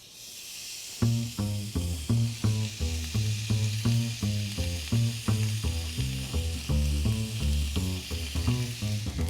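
A New York steak sizzles loudly in a hot pan, a steady close hiss and crackle with regular popping pulses that begins abruptly and keeps going.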